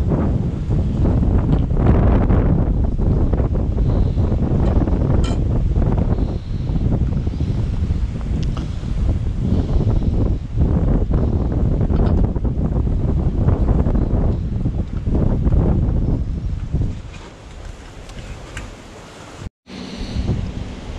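Strong wind roars steadily against the microphone while fishing on a river in Bosnia, a loud low rumble and buffeting that eases slightly near the end, with faint water in the background.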